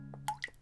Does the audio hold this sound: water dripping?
yes